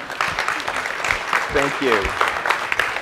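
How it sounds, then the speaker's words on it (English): A conference audience briefly applauding public servants, a moderate wash of clapping under a nearby voice speaking. "Can we give them a quick round of applause?"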